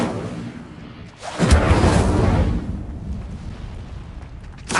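An Incendio fire spell cast in a Harry Potter video game: a sudden loud whooshing burst of flame around the midpoint, rumbling and roaring for a few seconds before fading into a lower hiss.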